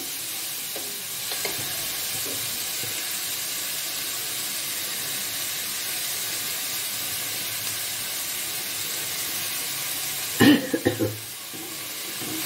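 Food frying steadily in a pan, a soft continuous sizzle and hiss held at an even level, with a brief cluster of louder knocks near the end.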